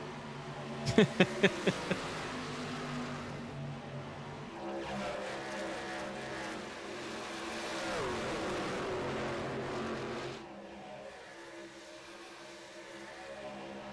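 A racing truck engine in a racing-game league race, revving with a few sharp bursts near the start, then a sustained buzzing drone that rises and falls before dropping back to a quieter hum.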